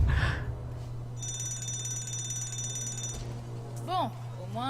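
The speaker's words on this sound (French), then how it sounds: "Bon, au moins l'alarme incendie marche." Electronic fire alarm ringing inside a S.H.I.E.L.D. base in the LEGO Marvel's Avengers video game, a steady sustained tone over game effects, with a few chirping sweeps near the end.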